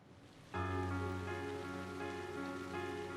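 Steady rain in the video game Trails of Cold Steel's rainy season, starting suddenly and holding as an even wash of downpour, layered over sustained soft background music tones.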